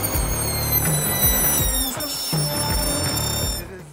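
Dry ice squeaking on a hot burner in an apartment kitchen: a repeated, rhythmic pitched squeal with stacked harmonic tones, pulsing several times at close range and fading slightly at the end.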